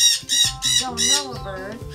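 A baby macaw gives several loud, harsh squawks in quick succession, close to the microphone, with a few rasping calls trailing off at the end.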